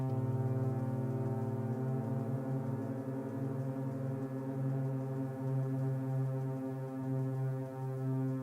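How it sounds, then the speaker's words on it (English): A steady, buzzing Eurorack modular synth oscillator tone using hard sync, with rich, harsh overtones, sustained for several seconds with slight shifts in timbre, loud and alone. "Get that sync sound."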